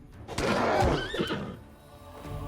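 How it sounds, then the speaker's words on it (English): A horse gives a loud, close whinny in the video game Pathfinder: Wrath of the Righteous, one wavering call that rises and then trails off, with faint hoof-like sounds beneath it. "Horse."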